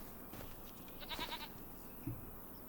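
Goats in the Farming Simulator 25 video game give a short, faint burst of quick repeated bleats, followed by a brief low bleat a moment later.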